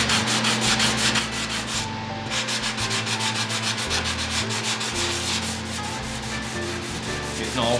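Hand sanding with 240 grit sandpaper to clear off glue residue: loud, close, continuous abrasive rasping in steady back-and-forth strokes over a low background hum.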